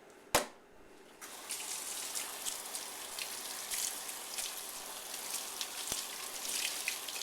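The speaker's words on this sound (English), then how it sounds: "keeping the most of the water in the cloth and letting it drop" Water drips and trickles from a wet nuno felting cloth held over a sink, a steady patter of small drops after a sharp opening knock, fairly quiet and close.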